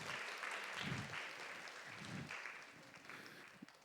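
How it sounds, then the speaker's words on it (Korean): A church congregation at a Sunday afternoon worship service gives a round of applause, a soft, distant wash of clapping that fades slightly toward the end, with low voices murmuring underneath. "고생해서 박수 한번 쳐주십시오"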